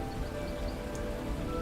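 Steady rain pours down in the survival video game Under the Ocean, a dense, even hiss of falling drops at a constant, fairly loud level with no voices.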